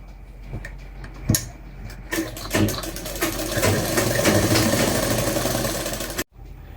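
A sewing machine stitches the lining of a kurta in short bursts, a fast mechanical whir that starts and stops, building into a longer steady run before cutting off abruptly.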